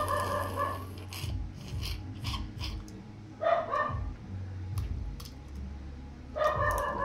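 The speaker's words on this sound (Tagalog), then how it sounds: "Ang ingay ng aso sa labas." Dogs bark outside in a few separate bursts at a moderate distance in the Philippines, with rubbing and scraping noises close by in between.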